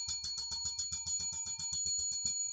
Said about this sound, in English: I ring the triple alarm bell